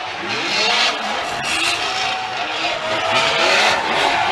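Formula Drift cars race side by side up a hill at a 2014 Atlanta event, engines roaring and revving with tire squeal and skidding, loud and sustained throughout.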